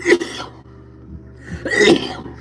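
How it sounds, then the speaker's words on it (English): A person coughs twice, two short harsh bursts close by separated by a quiet pause, with no speech. "that shouldn't be making me cough like that"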